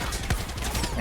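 Rapid gunfire in the video game Far Cry 6, a dense burst of overlapping shots across the brief moment, fairly loud and close with no talk over it.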